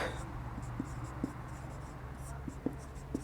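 A pen scratches across paper while writing a letter, soft irregular strokes with small taps, under a low steady hum and faint background sounds.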